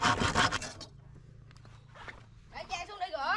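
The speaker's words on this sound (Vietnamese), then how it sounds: "Vậy mình sẽ cưa ở chỗ này nha." A handsaw rasps through a length of bamboo being cut for a long bamboo-tube seafood hotpot. The sawing is faint and steady between stretches of talk at the start and end.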